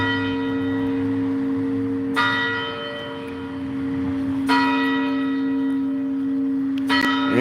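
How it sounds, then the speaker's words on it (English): Church bell strikes at six o'clock during an outdoor walk on a hot day, three loud, ringing tolls spaced a couple of seconds apart, each with a long sustained hum decaying under steady background noise. "We only get 6 bells because it's 6 o'clock, right?"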